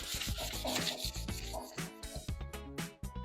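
Wood being sanded by hand to take off pencil marks during a blanket ladder build: close, loud rhythmic back-and-forth rubbing strokes, repeated quickly and evenly, with no talk.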